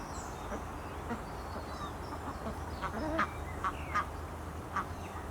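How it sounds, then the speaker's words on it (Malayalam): Ducks kept at a rural Kerala home with chickens, quacking in scattered short calls at a moderate distance over steady outdoor background noise, with no talk. "നമ്മുടെ താറാവിനെയും കോഴിനെയൊക്കെ അയച്ചിട്ട് കഴിഞ്ഞപ്പോൾ അതാ നമ്മുടെ ചിമ്പൂട്ടിനും എത്തിയിട്ടുണ്ട്"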